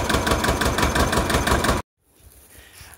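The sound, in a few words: tractor engine idling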